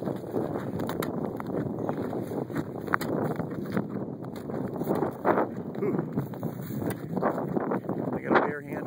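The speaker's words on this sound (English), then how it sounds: "Sorry about the wind. It's been a kind of a chilly, windy day here." Wind blowing on a chilly, windy day near a frozen beaver pond, buffeting the microphone as a steady broadband rumble with gusty swells throughout.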